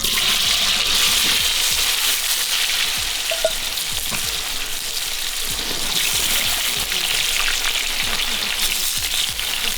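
Potatoes frying in a pan over a campfire outdoors, a steady loud sizzle with bubbling and hissing that runs continuously, with occasional soft scrapes of stirring.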